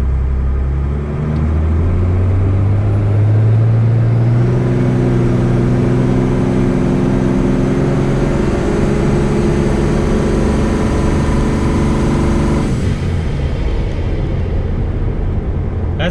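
A twin-turbo Cummins truck engine revs loud and sustained while building boost before launch, its deep drone climbing in pitch and holding steady, then dropping off abruptly near the end.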